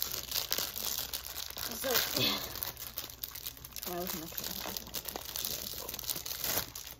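A plastic bag of dollar-store candy and fidget toys crinkles and rustles steadily as it is handled and opened, close up, with a person talking over the noise.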